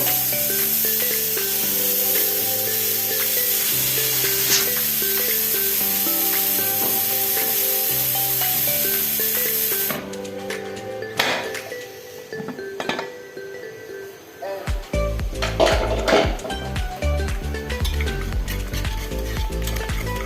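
Hot oil in a kadhai for aloo gosht, with a hissing sizzle that swells and crackles in the second half, partly under background music, with no voices.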